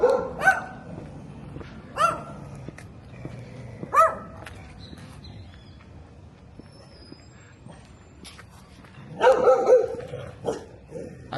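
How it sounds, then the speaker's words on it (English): Dogs bark at a gate in Paraguay, several separate loud barks a couple of seconds apart, then a quick burst of overlapping barking and yips near the end, with quieter background noise between. "these dogs have a little bit of Brazil in them, because that's what you see in Brazil. Dogs at the gate telling you to keep walking"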